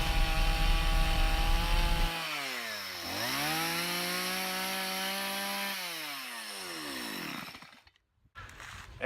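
A chainsaw cuts fur texture into a carved wooden bear, its engine holding a loud steady whine that dips and climbs as the throttle eases and rises, then cuts out briefly near the end before a short restart.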